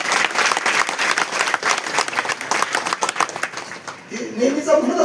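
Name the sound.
audience applause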